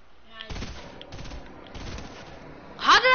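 Fortnite gunfire rattles off in a string of quick shots, loud and fairly close, followed by a short burst of shouting voice at the end.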